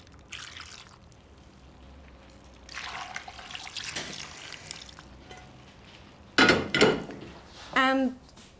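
Aromatic broth poured from a pot over cooked mussels in a dish, a brief splashing pour followed by a trickle, close, with someone talking during parts of it.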